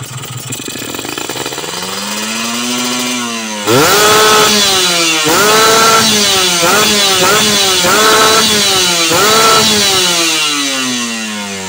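Motorcycle engine on a freshly tuned carburetor revving up to full throttle, loud and close. It climbs from idle, then gives a series of sharp repeated throttle blips, each rising and falling in pitch, before easing back down.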